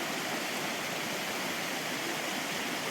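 Steady broadband rush of a river flowing on Stewart Island, a constant loud wash of water with no voices over it.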